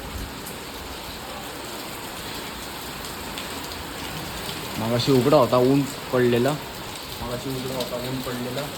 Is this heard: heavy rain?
yes